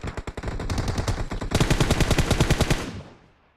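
Rapid automatic gunfire in a battle royale video game: a short burst, then a longer, louder string of shots that cuts off abruptly, with no voices.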